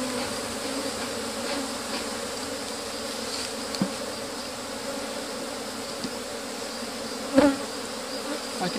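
Honeybees hum steadily around hive frames during comb replacement, a dense continuous buzz close by with a few brief knocks and handling sounds.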